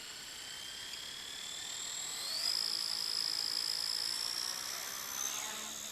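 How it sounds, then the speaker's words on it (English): A Blade 130S RC helicopter flies with a triple blade main rotor head, a thin high motor whine that rises in pitch and holds steady, fairly faint against the outdoor background with no talk. "really fun helicopter to fly with the triple blade head"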